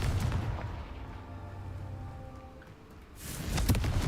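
In the video game Hogwarts Legacy, a Confringo blasting spell explodes with heavy booming crashes at the start and again near the end, separated by a lower rumbling, crackling stretch.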